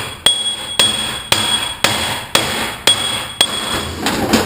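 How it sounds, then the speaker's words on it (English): A hammer strikes a transmission anti-rattle clip holding the low and reverse support on a 4L60E, eight sharp metallic blows at a steady rhythm, loud and close with ringing decay, no talking. "So what you do is take a hammer and just"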